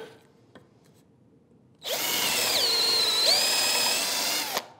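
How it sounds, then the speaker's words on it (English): After a quiet stretch, a power drill spins up to countersink screw holes in a wooden shelf, giving a loud, sustained whirring with a bit grinding into the wood for about three seconds before it cuts off. "I'm going to countersink them"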